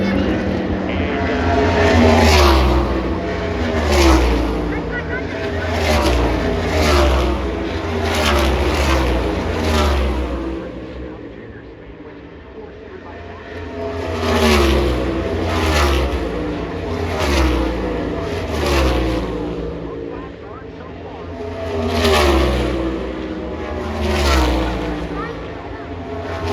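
NASCAR race cars howl past at Pocono Raceway in repeated loud waves that rise and fall as they lap, with a commentator's voice running beneath and between the passes.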